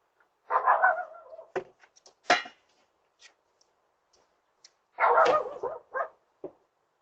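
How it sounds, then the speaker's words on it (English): A loud dog barks several times behind a front door, in two bursts of barking separated by a few sharp clanks and short yips. "a loud dog's bark spooks her, and she quickly leaves"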